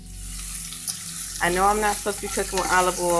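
Food frying on high heat in a mix of grapeseed and olive oil, a steady close sizzle running throughout, with a voice-like harmonic murmur or stirring sounds joining in the second half.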